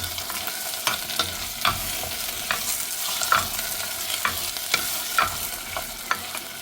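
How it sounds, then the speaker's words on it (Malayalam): Tomatoes and green chillies for a Kerala-style shrimp roast sizzle in a pan under a steady frying hiss, with regular clinks and scrapes of a spoon stirring about once a second. "തക്കാളി നന്നായി വരട്ടെ"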